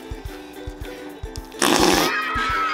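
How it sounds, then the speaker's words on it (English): Homemade borax-free slime squeezed to make fart sounds: soft rhythmic squelching pulses, then a louder, rough, sputtering burst near the end, close up. "It makes awesome fart sounds too."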